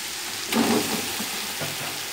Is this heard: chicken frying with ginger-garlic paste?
yes